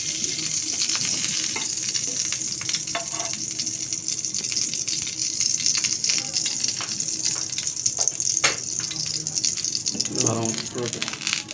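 Peanuts lightly roast in ghee in a hot pan, a steady close sizzle with frequent spoon scrapes and clinks, plus a short burst of speech near the end.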